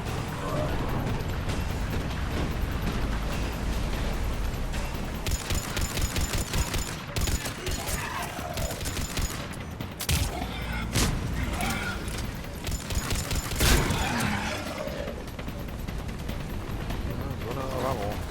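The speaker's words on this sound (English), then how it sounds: "Shooting at something that's not even there." Gunfire in the Mass Effect 3 video game: dense, continuous bursts of automatic weapon fire and sharp impacts mixed with game sound effects, loud and sustained throughout, while voices talk over the combat.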